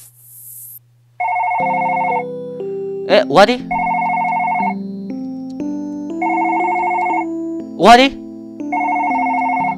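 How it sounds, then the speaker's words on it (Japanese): A telephone rings in a video game, repeated electronic ring bursts in a steady pattern over background music, with a person talking briefly between the rings. "電話？"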